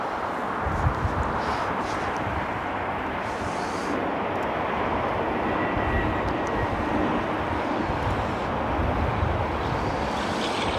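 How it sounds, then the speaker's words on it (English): Etihad Airbus A380 moving toward the runway at a cold, snowy Toronto Pearson airport, a steady distant jet engine roar with wind rumble, continuous and fairly loud. "Etihad A380 moving towards 23"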